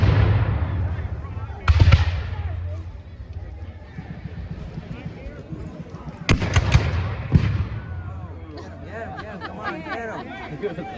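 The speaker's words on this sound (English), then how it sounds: "The British gun just fired." A British cannon fires at a Battle of Guilford Courthouse reenactment, two loud booms roughly five seconds apart standing out over steady crowd chatter and outdoor bustle, with spectators talking throughout.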